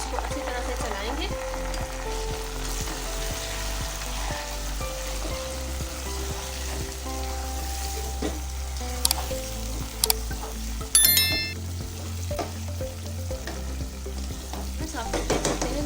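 Chicken sizzles steadily in a pan with salt, turmeric, chili, ginger and garlic for biryani, stirred continuously, with a few sharper clinks and scrapes of the spoon near the end.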